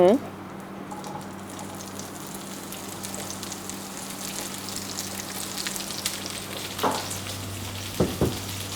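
Chopped vegetable roasting in hot olive oil gives a steady close sizzle under a low hum, with a few stirring knocks near the end and a faint voice at the start.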